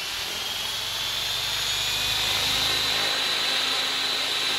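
Remote-control helicopter with Rail 717 blades doing an autorotation, a steady airy whooshing hiss that swells slightly midway, heard alone.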